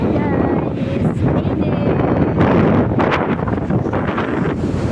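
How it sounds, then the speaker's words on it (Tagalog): Strong seaside wind gusts buffet the microphone in a constant roaring rush, with faint voices nearby. "Tunog ng hangin oh."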